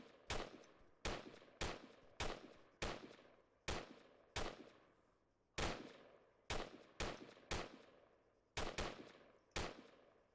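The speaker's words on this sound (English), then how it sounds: "someone's shooting at me" Video game gunfire rings out as a dozen or so sharp, loud single shots, fired in an uneven rhythm roughly every half second to second, each with a short decaying tail.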